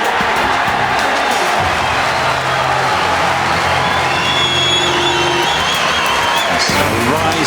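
A snooker crowd at the Masters final roars and cheers loudly, a sustained dense mass of voices with whoops and some clapping, while tonal lines suggest a commentator speaking over it.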